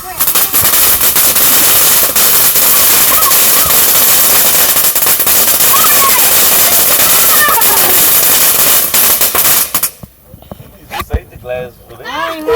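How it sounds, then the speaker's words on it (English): Fireworks crackle and pop in a dense, sustained barrage through most of the clip, loud and close, then break off near the end, with people talking over and around the bursts. "fireworks."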